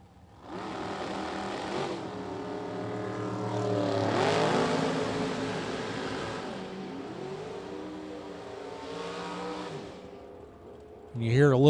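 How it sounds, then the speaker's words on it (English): Vintage class race car engines rev and whine at a distance, the throttle rising to a swelling peak, easing off, then building again, with a louder burst at the very end. "You hear a little throttle work down there, and Zinda tightens it up for the win."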